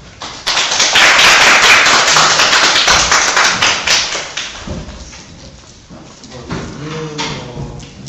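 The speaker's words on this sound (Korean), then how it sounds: "박수를 드리겠습니다" Audience applause after a conference presentation and discussion at a Korean records-management meeting, swelling quickly into loud sustained clapping that tapers off gradually toward the end.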